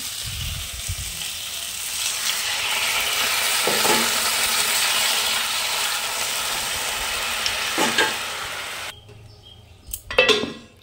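Fried vegetables sizzle steadily with spices in a pan, a broad hissing fry with a few scraping stirs, then it cuts off near the end, followed by a couple of utensil clanks.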